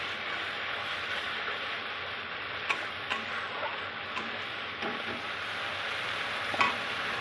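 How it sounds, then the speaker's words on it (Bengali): A spice paste of ground mustard seed, poppy seed and dried chilli with a few green chillies frying in oil, a steady close sizzle with occasional light scrapes and ticks of stirring. "এবার ভালো করে মশলাটাকে একটু কষিয়ে নেব।"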